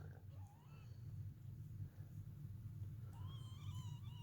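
Faint, high, thin mewing from newborn Sphynx kittens with their mother, a few brief cries scattered over a steady low background hum, growing more frequent toward the end.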